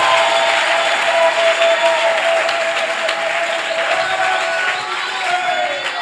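A church congregation applauding at a worship service, with sustained dense clapping that holds steady and loud for several seconds, a faint tone running beneath it.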